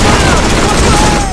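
Rapid automatic gunfire in the shooter game Borderlands, a loud dense burst of shots with bright tonal streaks over it, continuous for the whole short stretch.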